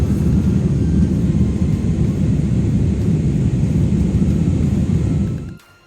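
A passenger jet takes off from Kuala Lumpur, heard from inside the cabin as a loud, steady, broad roar and rumble that holds for several seconds and then cuts off abruptly.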